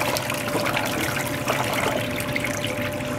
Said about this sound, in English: it produces a suction and sucks the water out of the hose.